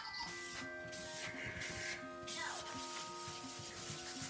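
A cloth scrubs across a chalkboard coated with VersaChalk cleaner, lifting stains with repeated soft rubbing strokes, close and quiet, while a voice talks faintly in the background.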